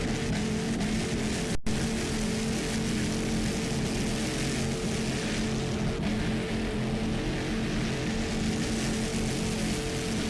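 Twin 500 horsepower inboard engines drive a Super V Light class racing powerboat at the 2002 APBA World Championships, producing a steady, loud, continuous engine roar that holds through the whole stretch with no talk.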